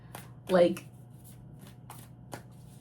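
A few soft riffling tarot card shuffles with brief papery bursts, one louder flurry, then lighter taps, close and quiet.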